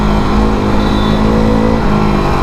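A KTM RC 390 motorcycle engine drones loud and steady at high revs, a constant up-close engine roar with no talking over it.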